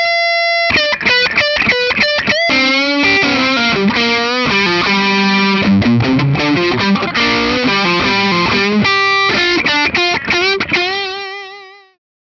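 A 2002 Gibson Custom Shop non-reverse Firebird electric guitar on its neck pickup, slightly overdriven, plays a loud, busy run of picked notes and chords that ends in a ringing, decaying tail.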